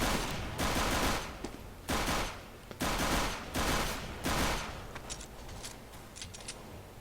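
Gunfire in Counter-Strike: Global Offensive on the Dust2 map, several loud bursts of shots spaced a second or so apart, followed by sharper, thinner pops toward the end.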